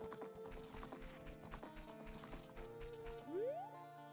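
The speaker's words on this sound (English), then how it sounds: "She's this horse. Her name is Epona." Hooves of the horse Epona clip-clop in the Ocarina of Time video game under layered, melodic game music, with a rising chime near the end.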